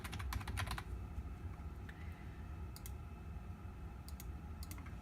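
Quick clattering keystrokes on a computer keyboard come in short bursts with gaps between them while an online form is filled in, heard faint and close over a low steady room hum.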